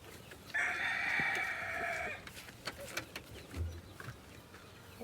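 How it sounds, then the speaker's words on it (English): A rooster crows loudly on a family farm as the chickens are let out, one long call followed by scattered clucks and small farmyard noises. "He's letting the chickens out now"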